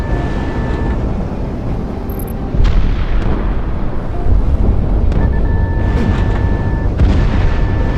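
A fighter jet fires a missile in Project Wingman: two heavy whooshing, booming surges over steady wind-like cockpit roar, with faint electronic tones running underneath.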